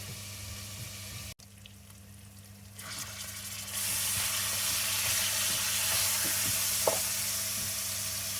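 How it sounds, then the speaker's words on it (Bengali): Spices fry in a pan ahead of a chicken curry, a low hiss that swells abruptly partway through into a loud, steady sizzle with one or two faint knocks and no voices. "মুরগির মাংস রান্না করব সেই জন্য আমি একটু মশলা কষায় নিচ্ছি"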